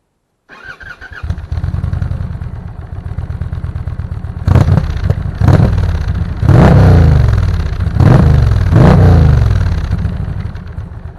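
A stock-exhaust Indian Challenger motorcycle, 2021 model, cranks and catches into a loud, close rumbling idle, then is blipped through several sharp revs in quick succession before settling back to a throbbing idle.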